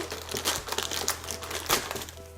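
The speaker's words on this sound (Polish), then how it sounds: "otwórzmy sobie nasz kubeczek" Crinkly plastic packaging of a McDonald's Happy Meal toy cup being opened by hand, a close run of irregular crackling rustles with a couple of sharper crunches, no speech.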